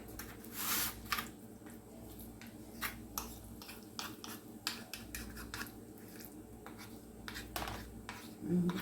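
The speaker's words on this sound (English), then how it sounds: "We add the Velveeta cheese in. We're going to mix up the cream soup." Spoon stirring Velveeta cheese into cream soup as a tuna pot pie base, soft wet scraping and squishing strokes in an irregular rhythm, close and fairly quiet, with light knocks against the bowl.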